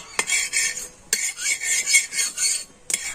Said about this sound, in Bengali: তেলটা আমি চাটু এরকম চার ধারে মাখিয়ে নেব